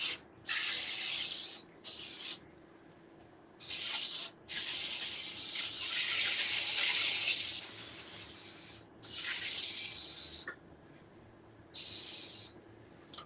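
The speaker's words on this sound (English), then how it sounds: "The reason I spray the corners is because you want to make sure once it cooks, the moisture gets down in there." Cooking oil, olive or regular, sprayed from a can into the corners of a pan for seafood mac and cheese: a series of sharp hissing bursts of varied length, several long, separated by brief pauses, close and alone.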